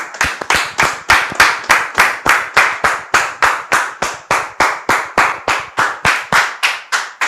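Close, loud rhythmic clapping welcoming a guest onto a church testimony programme, steady regular claps at roughly three per second, crisp and synchronized as if from a small group or single clapper, with no talk over it.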